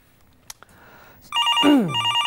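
A telephone rings on a live Korean stock-market call-in broadcast, a bright electronic ringtone starting after quiet with a couple of faint clicks before it, clear and fairly close.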